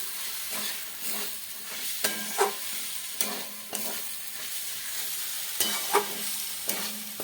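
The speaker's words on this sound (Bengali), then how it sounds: "ভাজা ভাজা হয়ে এসছে একদম" Banana flower curry frying in a pan, with a touch of sugar added, sizzles softly and steadily while a spatula scrapes and knocks at irregular intervals, close by and quiet, with no voices.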